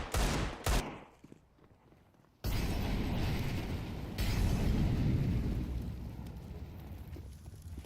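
Rifle fire from AK-47 and Galil rifles in a competitive Counter-Strike match, a short burst then a pause before sustained, loud continuous gunfire fills the rest, with no voices.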